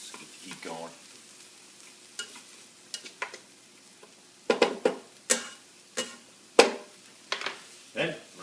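Garlic browns in a hot frying pan for ground beef gravy, a soft steady sizzle broken by a series of loud scraping stirs of the spatula, close up and without talk.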